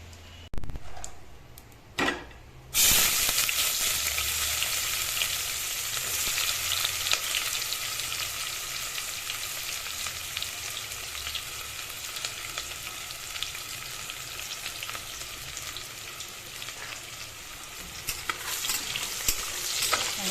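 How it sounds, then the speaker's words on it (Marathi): Onion frying with cumin seeds in a pan over low gas, a continuous sizzle that swells after a short quiet start, with repeated scrapes and taps of stirring throughout. "आता हे आपण छान कांदा लालसर होईपर्यंत बारीक गॅसवर लाल होऊन घेऊ"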